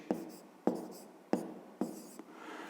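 Writing during a fifth-grade maths exercise: four sharp, tapping strokes, each a second or so apart with a short scratchy tail, close by and alone.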